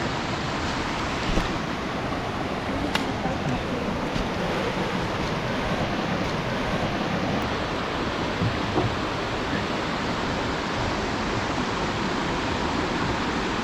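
Water of the Casaño river rushing steadily near a footbridge on a mountain trail, a broad constant roar close by with no break, a few faint knocks over it.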